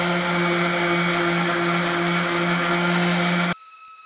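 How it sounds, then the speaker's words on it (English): A loud, steady orbital sander whine with 50-grit sandpaper on a rusted cast iron Dutch oven, a constant hum and gritty hiss of sanding, stopping abruptly near the end. "taking some 50 grit sandpaper to my orbital sander"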